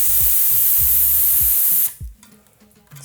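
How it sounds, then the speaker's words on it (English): Air hissing out of a bicycle tire pumped to about 80 psi as some pressure is let off: a loud, steady spray-like hiss lasting almost two seconds, then a few soft handling noises. "You do not want to have 80 psi in your tires to fly, that's a bit much, so you need to take some air off."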